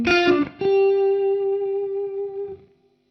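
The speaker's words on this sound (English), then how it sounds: "spring reverb from the amp" An electric guitar chord rings through a KMA Machines Endgame pedal and an amp's spring reverb, loud and close, a short attack followed by a long, smooth sustain that fades out over about two seconds.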